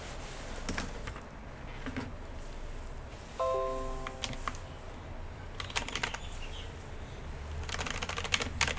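Clicky keystrokes on a Corsair SK650 keyboard come in quick, irregular bursts, sharp and close, with short pauses between runs and a brief electronic tone partway through; no voices.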